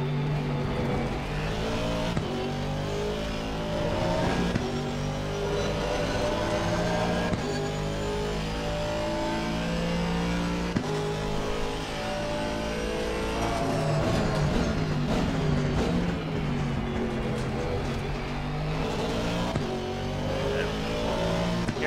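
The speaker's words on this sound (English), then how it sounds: "Here, getting on the limiter." An Aston Martin V8 race car in Assetto Corsa Competizione at Misano screams steadily at high revs and bounces against the rev limiter, its engine pitch rising and falling continuously and loud throughout.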